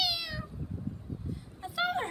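A cat meows twice, a clear high cry at the start and another near the end, with low rumbling noise and soft movement in between on a windy February day.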